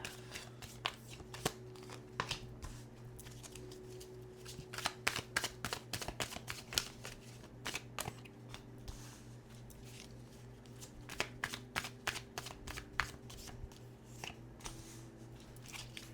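A cosmic energy oracle card deck being shuffled close up, with rapid repeated riffling and flicking bursts in an uneven rhythm that runs throughout with no talking.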